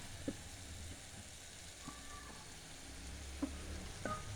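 Hot boiled ghee is poured over spiced pumpkin raita, giving a faint, soft sizzle with a few small pops and crackles scattered over several seconds.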